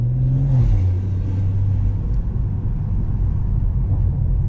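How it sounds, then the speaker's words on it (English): A BMW M340i idling on its stock burble map, a deep low rumble with an initial throaty swell that settles into a steady, close exhaust drone with faint crackle. "Even though these are like on the stock Burble map, it might be getting just a little bit too much."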